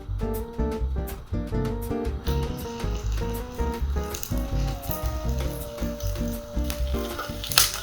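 Fish laid skin side down in a hot pan, a steady crackling sizzle under tonal background music that keeps going throughout, fairly soft and continuous.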